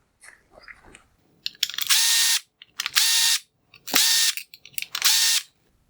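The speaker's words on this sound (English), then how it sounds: "I will remove the T10 torque screws holding the cover on the rear of" An electric screwdriver backs out T10 Torx screws from a Jaguar F-Type LED headlight cover, four short high whirring bursts with brief clicks and silences between, close and alone.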